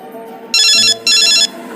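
Telephone ringtone as a call is placed, two loud electronic ring bursts separated by a short gap, over a quiet room background.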